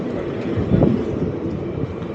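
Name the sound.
express train passing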